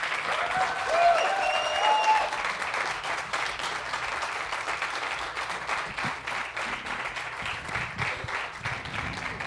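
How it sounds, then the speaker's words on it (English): Festival audience applauding a live podcast recording, steady dense clapping that swells early and continues throughout at close range, with a few faint cheers mixed in. "A huge, please, round of applause for Jen."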